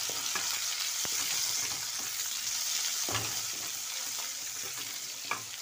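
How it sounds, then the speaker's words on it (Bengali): Garlic paste and onion fry in oil in a home kitchen, a soft, steady sizzle broken by occasional clicks and stirring knocks, with no talking. "তবু আমি একটুখানি অল্প করে দিয়ে দিচ্ছি পেঁয়াজটা ভালো করে ভাজার জন্য"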